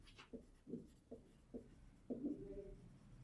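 Someone writes a maths solution by hand on a class 10 linear equations exercise. The pen gives short, faint scratchy strokes in an uneven rhythm, with one longer stroke near the end, close and quiet with no talking.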